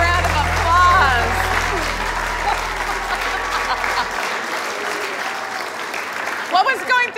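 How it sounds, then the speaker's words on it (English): Studio audience applause at a comedy sketch taping, a sustained round of clapping under a steady low hum that cuts out partway, with voices heard over it and a brief burst of talk near the end. "give him a round of applause"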